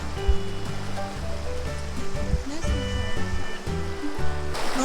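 Water rushes steadily along a stream near Tanay, a continuous close wash of flow with bits of voice mixed in under it.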